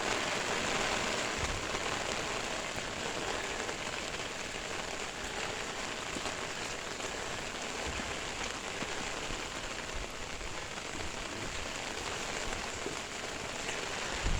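Water spraying over a car to rinse it during a car wash, a steady broadband patter and hiss like rain falling on a surface, continuous and even throughout.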